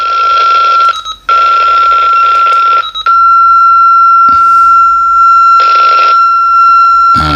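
A handheld transceiver radio with its squelch set to 0 gives off loud, steady electronic tones. Bursts of hissing static break in and out, close and harsh.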